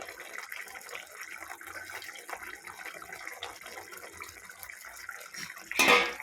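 A small splash of water poured into a pan of spiced rohu fish curry with pepper and green chillies, heard as a soft, steady trickle that ends in a brief louder gush.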